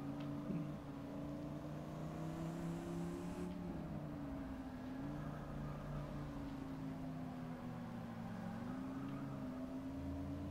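Chryslus Rocket 69 engine in the Forza 6 racing game on the Bernese Alps track, a steady droning hum with a gear shift dip partway, constant and moderately loud with no talking.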